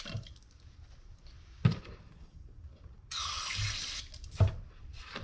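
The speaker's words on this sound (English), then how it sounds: "I'm gonna hit it with some brake clean, flush out whatever's in there." Brake cleaner sprays in bursts onto the front brake of a 2008 Ford Focus, a sharp hissing jet that starts and stops between clanks and knocks from the work.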